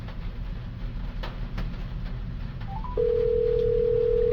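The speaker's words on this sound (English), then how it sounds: "We're gonna go ahead and call someone." A phone call dialing over a car stereo via Bluetooth in a Ford E Series Econoline van: faint tones give way to a steady, loud continuous call tone through the speakers over low cabin rumble, with no talking.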